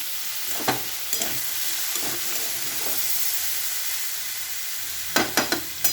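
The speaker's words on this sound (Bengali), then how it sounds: "একটু ঢাকনাটা খুলে দেখি কেমন পর্যায়ে আছে। তো জল বেরিয়ে গেছে বন্ধুরা, হালকা করে নাড়াচাড়া করবো।" Milk being stirred as it fries in a pan at home, a steady soft sizzle with scattered scraping and clinking stir strokes, a brief cluster of sharper scrapes near the end, and no talk.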